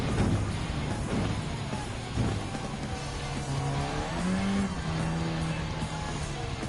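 Race car engine in Gran Turismo 7, a World Touring Car 700 event at Dragon Trail Gardens, whines and revs up and down through gear changes, steady and close throughout.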